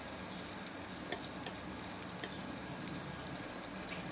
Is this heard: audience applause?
no